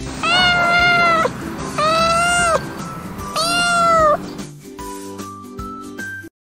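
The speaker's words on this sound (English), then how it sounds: "Cat." A cat meows three times in a row, each a drawn-out, fairly loud, near call with clear pitch, followed by a softer tonal tail and a short pause before silence.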